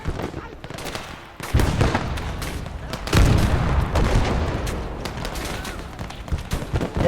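Artillery and gunfire in the wargame Kampfgruppe, with a dense fusillade of booms and shots that swells louder midway and keeps rumbling close and heavy throughout.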